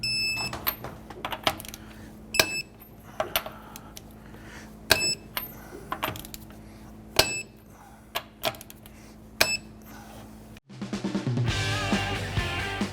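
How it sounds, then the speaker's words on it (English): A torque wrench clicks sharply again and again while lug nuts on a 2009-2015 Honda Pilot are tightened after a front brake caliper job, crisp metallic snaps spaced over a quiet background, followed by a louder burst of other noise at the end. "Let's go ahead and torque our lug nuts down to 95 foot-pounds."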